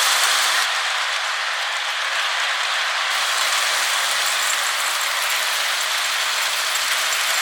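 A Lionel O scale 2-4-2 Atlantic model locomotive, a Happy Holidays set with Santa, Rudolph and an elf, runs along its toy track with a steady, continuous whirring and rattling hum, fairly loud and close, with no talking.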